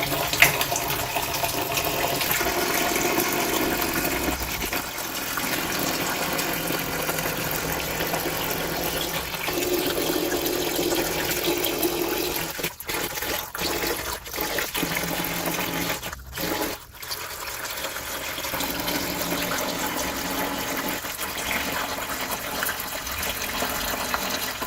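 A steady, loud rush of water drains through a siphon hose from a kids' pool on a patio and keeps going without a break. A few brief gurgling dips come through near the middle.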